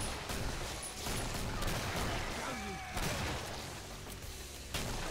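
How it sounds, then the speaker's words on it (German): Rapid, dense bursts of AA-12 automatic shotgun fire in Killing Floor 2 crack and boom in quick succession, layered with game mayhem and a talking voice throughout. "Das ist eine Schrotflinte, die so schnell schießt wie eine MG."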